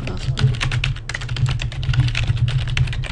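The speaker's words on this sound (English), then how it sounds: "What you do is type in your username, then password" Steady typing on a computer keyboard as a username and password are entered, a dense run of close, crisp key clicks with a brief pause near the start.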